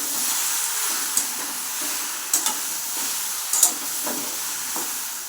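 Jujube pickle cooking in a pan, a steady soft sizzle with a few sharp spoon knocks and scrapes as it is stirred, fairly close and with no voices.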